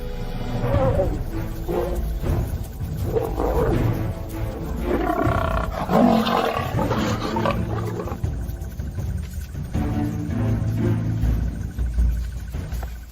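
Several male lions roar and snarl loudly and continuously in the African bush, a dense, rumbling chorus of overlapping calls with no pauses and no talking.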